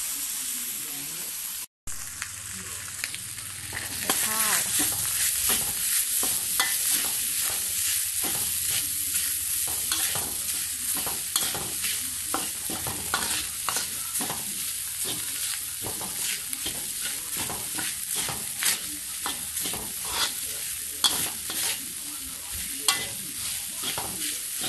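Pork crackling stir-fried in a pan with leftover chili paste, a steady loud sizzle broken by repeated scraping strokes of a utensil against the pan for most of the stretch.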